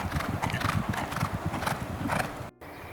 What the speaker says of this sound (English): I'm riding an older horse to lead 2 unraced 3-year-old fillies.